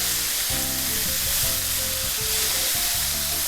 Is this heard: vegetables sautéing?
yes